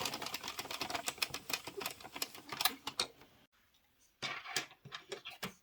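An Addi circular knitting machine being cranked round makes rapid, quiet, fairly even clicking that stops briefly partway through, then resumes at the same quick clatter.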